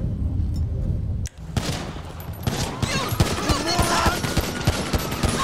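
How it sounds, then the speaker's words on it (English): Gunfire in GTA V during a police arrest scene: after a short quiet break comes a dense, continuous barrage of rapid shots and cracks, loud and close, with some faint game sound under it and no clear voice. "Shots fired!"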